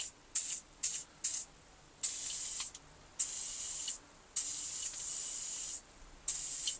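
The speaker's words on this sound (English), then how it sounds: "just a layer of WD-40 and then back in the box" WD-40 lubricant sprays from an aerosol can in repeated bursts, first three quick short blasts, then several longer hissing sprays, close and clear with no talk.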